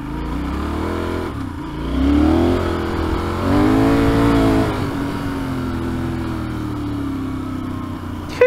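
A Benelli Leoncino 800 Trail scrambler motorcycle engine idles with a throaty rumble and is revved twice, each rev rising and falling, heard close up.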